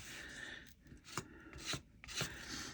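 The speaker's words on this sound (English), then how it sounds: "now I'm just going to go over each of the tiles and scrape off some of the extra and get that off" Faint, close scraping as excess material is rubbed off paper tiles on a junk journal page, a few rough strokes in uneven rhythm with no talking.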